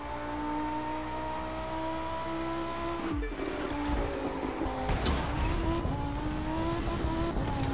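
Race car lapping the Nordschleife in a racing video game, its engine drone loud and continuous, with a pitch drop and gear change partway through before the revs climb again amid tire noise.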